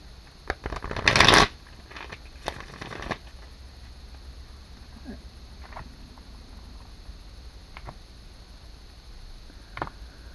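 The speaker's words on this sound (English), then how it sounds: "One more card. Or one more shuffle." A deck of tarot cards shuffled close by in a short riffling burst, followed by a few softer card taps and handling sounds over a quiet room background.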